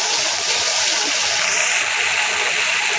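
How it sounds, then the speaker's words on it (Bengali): Water pours into masala being cooked down in a pan, a steady broadband hiss and splash running continuously for the whole stretch with no voices. "মশলাটাকে কষাতে এখন একটু পানি দিয়ে দেবো"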